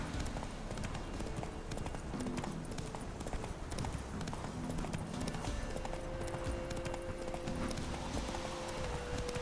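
In The Witcher 3, the horse Roach moves on hooves with a steady, quiet clip-clop rhythm that runs throughout, over soft background game ambience.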